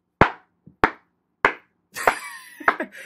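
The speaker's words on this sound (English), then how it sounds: "Don't be clapping" Four sharp, separate hand claps spaced about half a second apart, close and crisp, followed by louder clattering and knocking.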